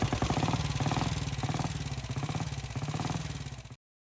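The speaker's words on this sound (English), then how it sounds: "So I got the bike engine warmed up." A warmed-up BSA A10 650cc Golden Flash motorcycle idles close by with a steady, lumpy twin-cylinder throb and mechanical clatter, then cuts off abruptly just before the end.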